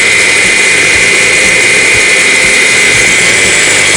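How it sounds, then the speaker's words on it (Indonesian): An electric mixer beats chocolate batter for a steamed chocolate cake, giving a loud, constant high whine with no break, close up. "tapi kita akan matikan dulu mixernya"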